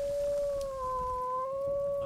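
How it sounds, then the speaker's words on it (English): A wolf in the survival game Vintage Story lets out a long, steady, sustained howl that rises slightly in pitch, loud and close, with no other sounds around it. "There's a wolf like 3 feet in front of you, just on the other side of the wall."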